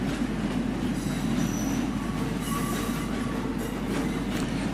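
A passenger train rumbles past on an elevated track with a steady roar and thin, high squeals of wheels on rails.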